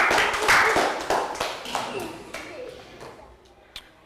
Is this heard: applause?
yes